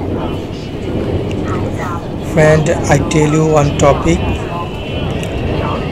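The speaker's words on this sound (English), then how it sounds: "this is high speed underground train" A high-speed underground subway train in Shenzhen rides along with a steady low rumble and whine from inside the carriage, while someone talks over it partway through.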